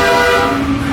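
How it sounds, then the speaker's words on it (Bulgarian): A loud, sustained video game horn blares for the full second, a single continuous honk with no breaks. "Този клаксон ще ни побърка!"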